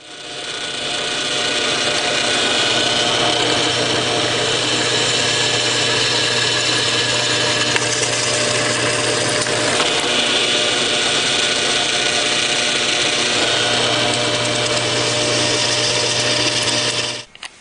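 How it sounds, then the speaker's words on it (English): A power drill at low speed drills out spot welds, running steadily at a constant whine for most of the stretch, close and loud, then stops at the end. "with my drill set to a low speed and a drop of oil on each of my spot welds"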